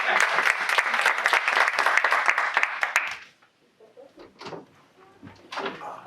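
An audience at an HBCU event applauds, a dense, fairly loud burst of clapping lasting about three seconds that cuts off abruptly, followed by quiet room sound and brief speech.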